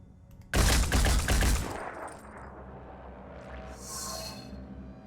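Automatic gunfire in the video game Phoenix Point, a sudden loud burst of rapid shots that lasts about a second, then a fading echo and a brief whoosh, with no voices.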